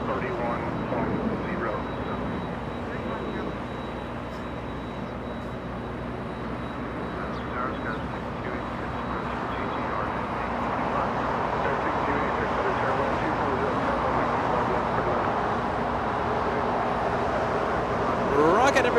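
FedEx MD-11 airliner at Los Angeles International Airport, a broad jet roar that swells gradually over nearly twenty seconds, heard from a distance at the airport among other traffic noise, with a person talking over it.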